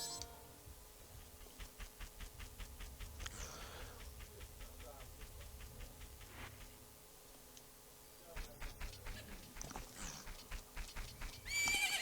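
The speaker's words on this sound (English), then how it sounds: "It is Epona, your horse." Epona, the horse in the video game Majora's Mask, whinnies and gallops: a run of rhythmic hoofbeats with neighs near the start and again later, clear and fairly close, with a brief quieter stretch in between.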